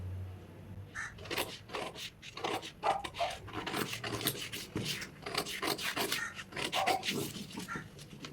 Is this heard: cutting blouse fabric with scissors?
yes